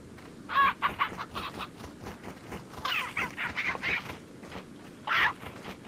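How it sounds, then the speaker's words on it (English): Chickens clucking in the Resident Evil 4 VR video game, several short bursts of clucks at a moderate distance over a steady background ambience, with no talking. "I wonder if you can stab these chickens."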